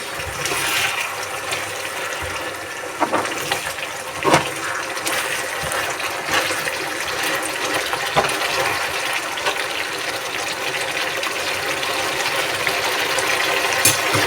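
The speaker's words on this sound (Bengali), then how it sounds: "সামান্য একটু পানি যেহেতু এটা শুকনো শুকনো হবে তো বেশি পানি দেওয়ার প্রয়োজন নেই" A small amount of water is poured into a pan while rohu fish do-peyaza with double onions cooks, producing a continuous gushing, splashing flow with a few sharper clicks.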